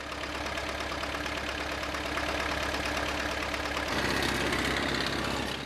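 A logging tractor engine runs steadily with a low, rumbling drone on snowy, frozen ground, shifting pitch partway through as it strains and revs, with no voices.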